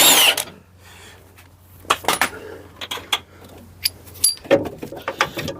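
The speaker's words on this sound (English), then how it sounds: "Undo the nut." Metal tools clink and rattle while a nut is undone during suspension repair on a Peugeot 207 near the anti-roll bar link. Scattered sharp clicks and taps sound close by against a quiet background.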